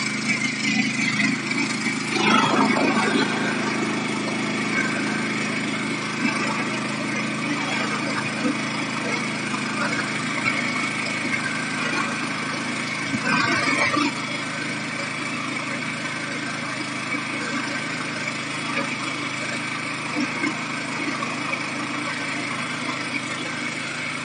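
A garden tiller engine runs at steady, moderate volume, droning continuously with slight swells as it is revved up, and someone speaks briefly over it.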